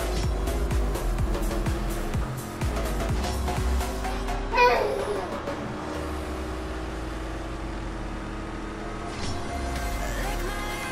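Bugatti Chiron engine in the racing game CSR Racing 2, a revving supercar drone with rising and falling pitch, a sharp squeal burst near the middle, loud and up close under some background chatter.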